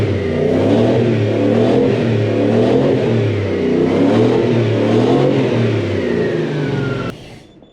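A Toyota 1UZ-FE 4-litre V8 swapped into a Mk1 Ford Cortina, with one cylinder not yet firing, revs loud and close, its engine note rising and falling in a sustained roar before cutting off abruptly near the end.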